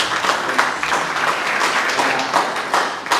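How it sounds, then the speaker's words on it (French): An audience at a French-speaking wellness-industry business presentation claps together in a sustained, dense round of applause lasting a few seconds. "applaudissez déjà pour vous, bienvenue."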